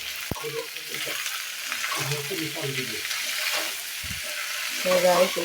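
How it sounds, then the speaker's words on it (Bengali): Chopped tomatoes fry with green chillies in a village kitchen pan, a soft steady sizzle broken by a few stirring clatters and scrapes, with a brief voice murmuring near the end. "দেখুন, টমেটো ভাজি করতেছি।"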